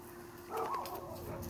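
A single short bark from a pet dog in a household with a White German Shepherd, a Husky/Pit mix and a Chihuahua, faint and slightly distant in an otherwise quiet room.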